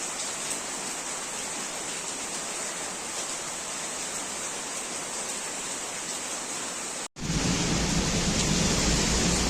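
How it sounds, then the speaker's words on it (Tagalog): Heavy rain with wind during the rainy season in India, a dense, loud, unbroken roar of downpour that briefly cuts out and then resumes even stronger, with no voices. "Biglang bumuhos ang malakas na ulan."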